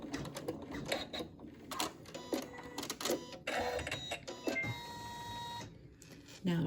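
An embroidery machine stitches a short tacking stitch on a pincushion project, its needle tapping in quick mechanical bursts with brief pauses, close and moderately loud, while a person talks over it.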